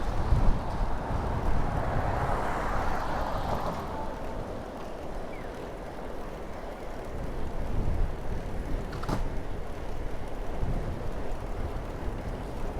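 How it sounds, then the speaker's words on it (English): Steady headwind buffets the microphone while cycling narrow roads in Japan, a continuous broadband roar that swells and eases over the whole stretch with no voices. "Oh man, that headwind."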